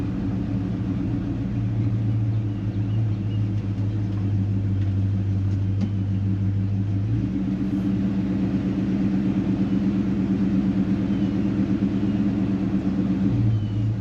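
A 1973 Chevy C10 squarebody pickup with slightly loose steering, driving along with a steady, close low engine rumble and road drone that shifts pitch a little partway through; no talking.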